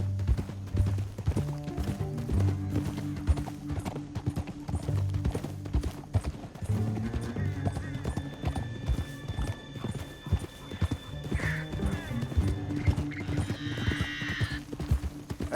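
Horse hooves clip-clop steadily over a music score, joined late by a horse's whinny; the hoofbeats stay close and rhythmic throughout.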